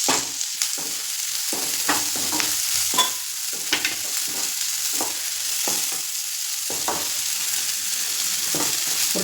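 Tomato sautéing in a pan for a roasted-and-ground chicken curry paste, a steady close sizzle and frying hiss broken by repeated scraping strokes of a stirring spoon, with no talk.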